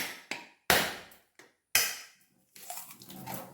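A coconut being cracked open in a home kitchen, sharp hard strikes in a few separate bursts with short silent gaps, followed by splashing of coconut water.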